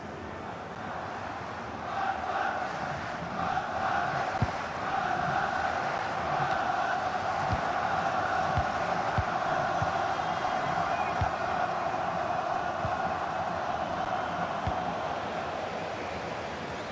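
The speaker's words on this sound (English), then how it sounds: "here we go, Mexican wave. Crowd trying to entertain themselves." A stadium crowd in the FIFA 19 video game, during a Germany versus Brazil match, keeps up a steady, swelling roar and chant as a Mexican wave rolls around, with game commentary talking over it throughout.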